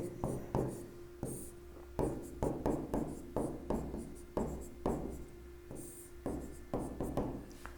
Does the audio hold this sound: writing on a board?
yes